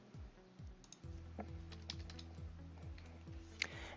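Brief, light keystrokes as an account code is typed on a keyboard for accounting data entry, a few soft clicks over a steady background hum with repeating tones.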